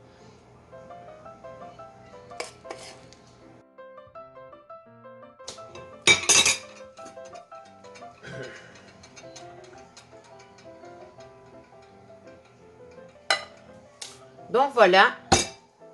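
A metal financier mold rapped against a counter to settle the batter, producing sharp clinking knocks in scattered clusters with a quick rattling burst near the end, while someone speaks French over faint background music.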